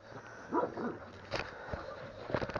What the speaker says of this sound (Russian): Дурная собака.